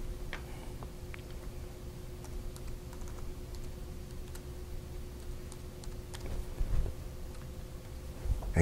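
Light, quick keystrokes tap on a computer keyboard as login credentials are entered, soft and scattered over a low steady hum, without any speech.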